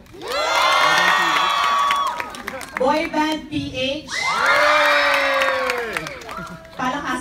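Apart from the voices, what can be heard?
crowd applauding and cheering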